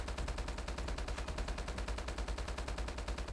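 HBR rifle in a video game fires a rapid, unbroken stream of loud automatic shots at an even rhythm for about three seconds, with no voices over it.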